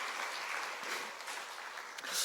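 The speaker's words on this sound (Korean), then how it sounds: "우리 서로를 격려하면서 박수 한번 할까요?" A church congregation at an Easter Sunday afternoon worship service breaks into warm applause, a thick, continuous wash of many hands clapping at once throughout the short moment.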